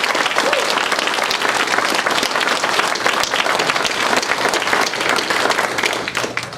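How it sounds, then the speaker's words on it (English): Sustained audience applause fills a room at a Quilts of Valor gathering, dense steady clapping from a crowd holding at an even loud level throughout, with a few voices faintly mixed in. "let's give them a round of applause"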